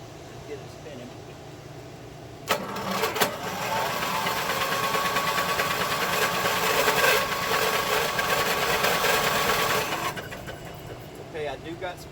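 A neglected Briggs & Stratton 17 hp opposed-twin engine is cranked over by its starter, with a sharp clunk at the start, then a steady rhythmic churning whir for several seconds that stops abruptly, followed by quieter handling noises.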